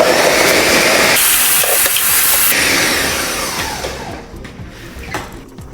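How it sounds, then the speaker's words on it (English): A kitchen blender whirs loudly as it blends lemon and other ingredients, a harsh close motor roar that shifts pitch partway through, then cuts off, leaving faint clattering. "I put everything on the blender and I blend everything together."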